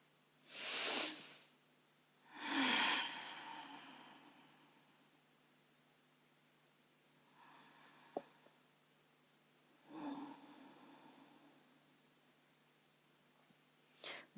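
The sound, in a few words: deep full breaths during a relaxation exercise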